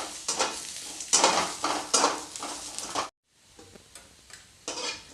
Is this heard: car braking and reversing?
no